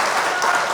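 A brief burst of crowd applause at a creditors' group gathering, a dense and fairly loud patter of clapping that fills the whole short moment.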